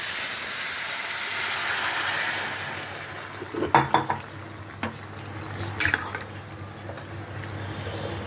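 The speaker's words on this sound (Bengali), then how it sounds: "এখন আমি এই লাউটা এই ফোড়নের মধ্যে ঢেলে দিই।" Bottle gourd tipped into a hot spice tempering for a prawn dish, a loud rushing hiss of steam that fades, then clattering stirs and scrapes against the pan over a quieter sizzle.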